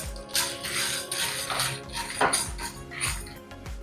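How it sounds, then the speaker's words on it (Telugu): Chana dal and coriander seeds are dry-roasted in a hot pan. They rattle and skitter as a continuous clattering of small hard grains against metal, with a few louder scraping knocks. "కొంచెం హీట్ ఎక్కాక ఒక టేబుల్ స్పూన్ శనగపప్పు ధనియాలు కూడా వేసేస్తున్నాను"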